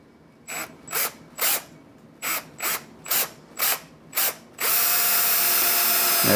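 A power screwdriver drives a screw into a road kill practice pad, with eight short, evenly spaced whirring bursts followed by a long, loud continuous whine of the motor, close and alone.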